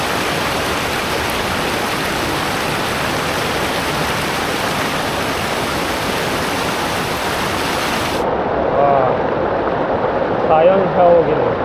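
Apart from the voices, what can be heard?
water pouring like a natural shower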